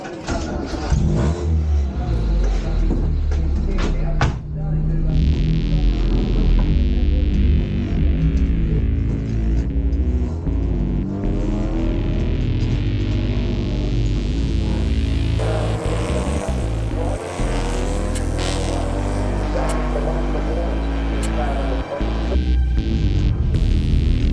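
Enduro motorcycles race laps at a grassroots event in Western Australia, their engines droning and revving steadily throughout, with a louder pass and a shift in tone near the midpoint and no talk over it.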